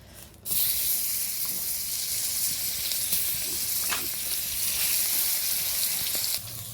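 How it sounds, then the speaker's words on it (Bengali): Fish sizzles and crackles loudly in hot oil in a pan, a steady hiss with scattered pops from a little water, starting abruptly and running continuously, with no one speaking. "খুঁটিতে একটু জল ছিল বলে চটপট করে আওয়াজ হচ্ছে।"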